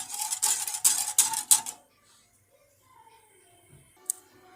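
A spoon stirs a thickening mixture for chicken negresco in a pot on the stove, making a rhythmic series of scraping, clinking strokes for about two seconds, then a near-quiet pause and one faint tap.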